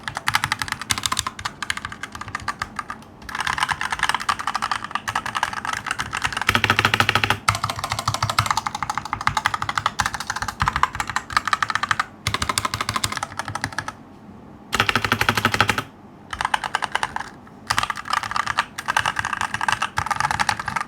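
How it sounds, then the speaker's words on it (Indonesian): Steady, fast computer keyboard typing on a Vortex Mono Series keyboard, close and crisp, with a few brief pauses between bursts of keystrokes. "Jadi suara typing feel-nya kurang lebih seperti ini."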